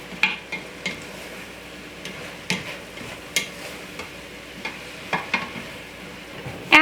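Garlic and sage are stirred into onions and celery softening in a pot for gluten-free sausage and mushroom stuffing. Regular spoon scrapes and knocks repeat about every half second over a faint, steady sizzle.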